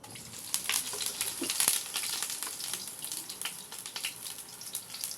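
Finely ground onion frying in a pan for beef paya, a faint, steady sizzle and crackle with scattered sharp pops and no talk.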